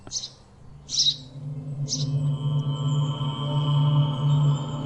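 A cartoon's rare bird gives three short, bright chirps in a row at the start, then a steady humming musical drone carries on alone, without speech.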